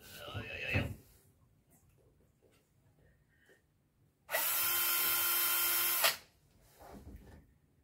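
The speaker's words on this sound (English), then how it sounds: "First, I'm using this drill." A power drill whirs loudly for about two seconds at a steady high pitch, then stops, between quieter stretches with a little talking.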